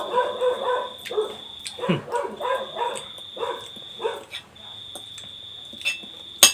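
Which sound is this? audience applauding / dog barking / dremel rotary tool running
dog barking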